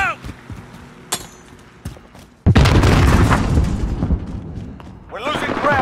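Grenade exploding in Modern Warfare multiplayer, a heavy close blast that bursts into a loud sustained rumble after quieter gunfire cracks, with game voice callouts around it.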